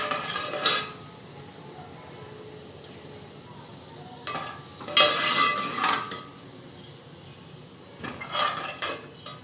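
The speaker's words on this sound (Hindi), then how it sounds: "थोड़ा ज़ीरा फ्राई करेंगे।" Cumin seeds and chillies frying in oil, a quiet low sizzle with a few louder bursts of spoon scraping and clinks against the pan.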